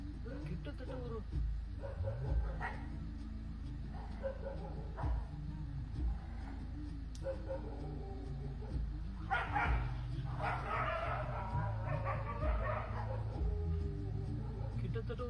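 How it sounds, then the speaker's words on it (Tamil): A large pack of around 25 street dogs barking and yipping over one another, with some whimpers, near and persistent, while people talk throughout. "கிட்டத்தட்ட ஒரு 25 நாய் இருக்கும் பொழுது. ஐயோ, அப்போ எவ்வளோ நாய்."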